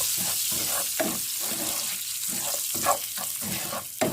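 Semolina roasting in desi ghee in a pan while cooking suji halwa, a steady close sizzle with soft scraping and stirring sounds.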